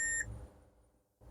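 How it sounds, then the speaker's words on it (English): A short, high multimeter continuity beep, indicating a short on a laptop motherboard, sounds at the start and cuts off quickly, followed by quiet room noise. "Here we are getting the beep, that means this side we have a short"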